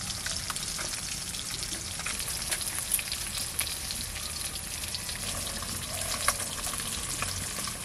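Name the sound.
fish frying in oil in a pan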